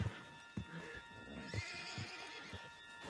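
A horse in the video game Red Dead Redemption 2 snorts and whinnies faintly amid quiet outdoor game ambience, with a few soft thumps spread across the moment.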